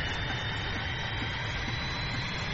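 Jet engines of an Avro Vulcan in the FlightGear flight simulator game give a steady, loud, broadband roar with no breaks or voices.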